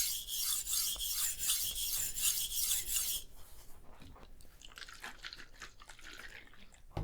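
Soft steel knife blade scraped across a wet 400 grit whetstone in quick rhythmic rasping strokes, followed by quieter, slower rubbing passes, close up with no talking.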